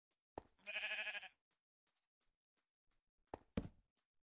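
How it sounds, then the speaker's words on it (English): Sheep bleating in a Minecraft-style video game: one clear, close bleat followed by a couple of short knocking taps, otherwise quiet. "Oh, hello, sheep."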